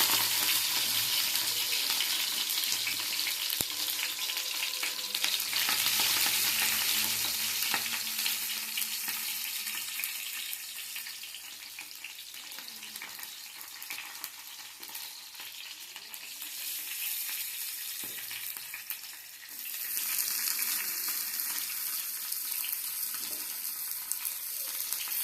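Hilsa fish fritters frying in hot oil give a loud, dense sizzle that runs on continuously, with brief stirring and a dip in intensity partway before the crackle swells again.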